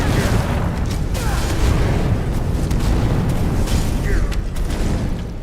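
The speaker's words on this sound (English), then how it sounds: "Constantine hears what is the unmistakable sound of fire magic being used." Fire magic spells cast in the video game Skyrim, a sustained roaring, crackling blast of flame running loud and steady throughout without pause.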